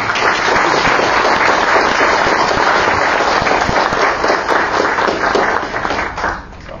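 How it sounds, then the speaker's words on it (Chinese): Dense, sustained clapping from a lecture-hall audience at Lingnan University welcoming Professor Jiang Yin before his talk on Tang poetry, loud and continuous throughout before easing slightly at the end. "所以大家那个用热烈的掌声呃欢迎蒋教"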